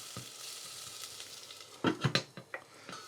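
Carrot or courgette cooks down in a pan with a quiet steady sizzle, broken by a few louder clatters and scrapes of stirring near the end.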